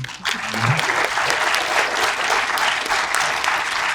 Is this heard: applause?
yes